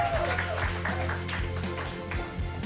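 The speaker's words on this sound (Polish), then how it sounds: "Trio was jeszcze raz wielkie brawa!" A live studio audience applauds a band during a radio session, steady dense clapping filling the clip with a low musical hum underneath and no voice over it.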